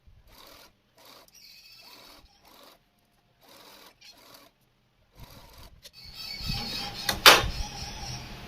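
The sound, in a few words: sewing machine stitching a seam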